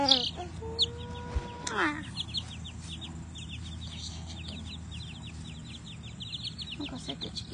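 Chickens cluck and squawk close by in a farm setting, with a loud burst of agitated calls at first and then a quieter stream of soft, repeated clucks and chirps.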